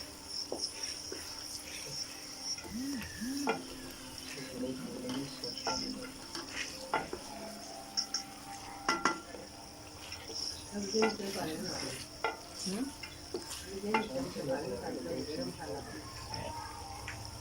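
Finely chopped green chillies stirred and frying in a pan for a cauliflower and meat curry, with soft sizzling and scraping strokes of a spoon, fairly quiet and steady, while a voice talks over parts of it.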